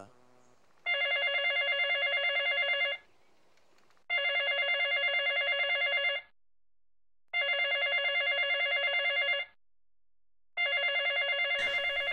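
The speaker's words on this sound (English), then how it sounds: "The 14th way to die is to get a phone call." A telephone rings in four long, evenly spaced electronic bursts with short silent gaps between them, clear and alone in a Modern Warfare 2 game scene, ending in a brief sharp noise.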